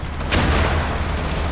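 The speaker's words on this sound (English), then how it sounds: "See this HQ that is calling in the artillery strike?" A heavy artillery strike erupts in a war video game, a dense, sustained booming roar with no clear gaps, loud and close throughout.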